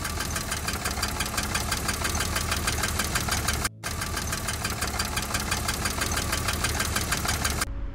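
BMW E30 engine idling with a steady, rapid metallic knocking that seems to come from the cylinder head rather than rod knock, loud and close, repeating evenly throughout with one brief cut near the middle.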